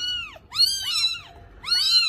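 Four hungry kittens orphaned after their mother died meow loudly and close by, high repeated cries in overlapping bursts with brief pauses between them.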